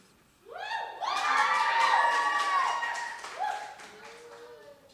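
A lively crowd at a youth open mic cheers and shouts for a poet, with whoops and scattered claps swelling over a few seconds before tapering off, voices rising above the din.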